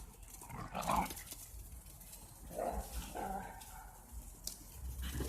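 Two dogs scuffle in a play fight, one of them yellow, with intermittent barks, yelps and growly bursts at moderate distance over a steady background hiss.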